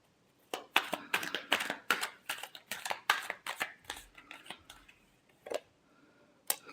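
Tarot cards are shuffled in quick, crisp riffles, a dense run of papery snaps and flicks that thins into a few scattered taps, close and fairly quiet.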